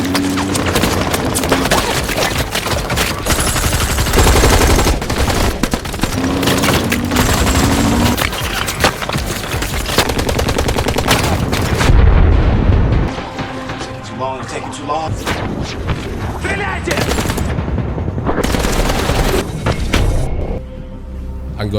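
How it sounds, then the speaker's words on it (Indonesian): Heavy gunfire in a film scene with Russian military forces: dense bursts of automatic fire and booming impacts rattle on loudly and almost nonstop, thinning into scattered shots and thuds, with no voices heard. "seorang anggota Bayman memberikan tembakan perlindungan"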